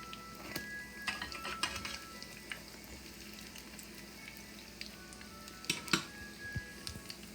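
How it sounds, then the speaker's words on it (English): Salt fish accra fritters fry in hot oil with a faint, steady sizzle. Scattered sharp ticks and pops rise out of it, and a louder clatter comes near the end. "You have to fry them until they golden brown like this."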